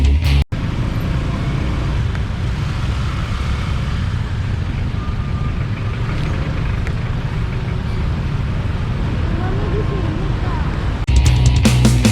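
Road traffic rumbles steadily at a busy intersection in Bali, with loud continuous engine and tyre noise from passing cars and motorbikes, close to the recorder.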